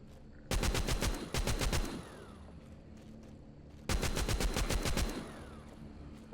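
Rapid, loud machine gun fire in The Walking Zombie 2 video game, two bursts and a brief third burst up front, then a pause before another sustained burst, each a dense even rattle of shots.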